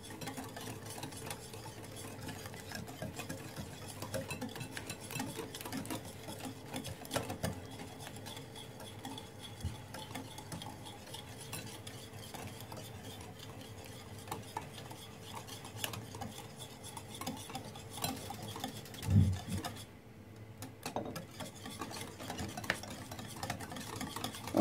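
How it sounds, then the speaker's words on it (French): Soft, steady scraping and stirring of apple cake batter with melted butter in a bowl, faint and continuous with one brief louder clink near the end. "Et je mélange."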